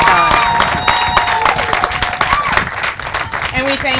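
Applause and cheering from an audience at a live podcast event, a dense burst of clapping with crowd noise and voices mixed in.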